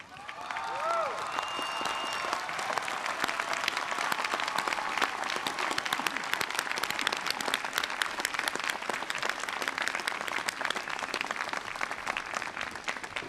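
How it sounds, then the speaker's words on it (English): Sustained applause from a standing commencement audience honoring Hanson College degree recipients at Rice University's 2001 ceremony, a dense even wash of clapping that swells after a brief spoken announcement and holds steady throughout. "rise and applaud the recipients"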